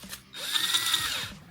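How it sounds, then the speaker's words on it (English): A power drill bores a hole through the upper rim of a plastic food-safe sap bucket, a steady whining drone lasting about a second, close and fairly loud, with no talking. "You're going to drill a hole on the upper rim here, in between the very top and this first rib down here."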